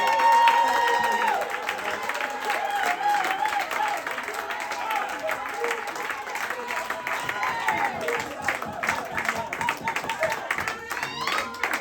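A church congregation at a French-language worship service bursts into sustained applause and cheering, dense clapping filling the room throughout, with a preacher's voice and crowd voices mixed in.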